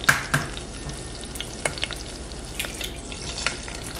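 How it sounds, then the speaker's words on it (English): Eggs frying in a pan, a steady close sizzle and crackle with scattered sharp pops and spits throughout, no voices. "Go ahead and fry these so they'll be ready when those pot pies come out of the oven."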